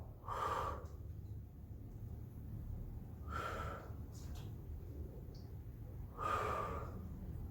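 A person breathing during a gym stretching exercise: three slow, audible breaths spaced a few seconds apart, soft and close over a low steady background hum.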